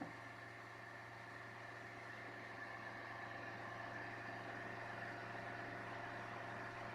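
A car engine runs steadily at a constant, fairly quiet level with a low droning hum. No voice is heard over it, and any change in revs is slight.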